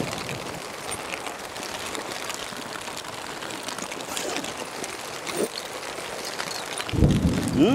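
Heavy rain pours down on a stormy day at a black carp fishing spot, a steady dense hiss and patter filling the whole stretch, with a voice briefly speaking near the end.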